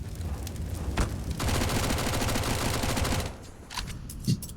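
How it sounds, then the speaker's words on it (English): A player in CS:GO empties a full magazine in a long unbroken burst of rapid automatic gunfire, followed by a few scattered single shots and clicks, loud and close. "Blame unloading his mag to try and feign presence"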